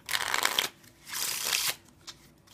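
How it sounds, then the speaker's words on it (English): A Coven playing card deck is riffle-shuffled twice in quick, crisp bursts, close and clear, followed by a few soft card taps. "They shuffle very nicely out of the box."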